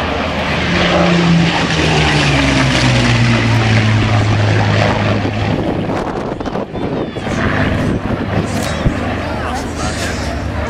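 A Hawker Hurricane propeller fighter, steel-tube fuselage, flies at a seaside air show, its loud engine drone droning steadily and sliding down in pitch as it passes, with wind buffeting and a commentator talking over it.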